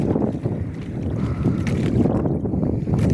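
Strong south wind at sea roars and buffets the microphone without a break, a heavy rushing noise with gusty surges throughout.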